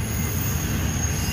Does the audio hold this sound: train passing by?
yes